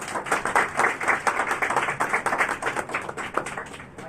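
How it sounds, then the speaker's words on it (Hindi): Applause greets a speaker at a church foundation day gathering, a dense, steady patter of many hands clapping for about four seconds, fairly close and loud, with no talking. "तो आइए हम सभी तालियों के साथ हमारे पास का स्वागत करें।"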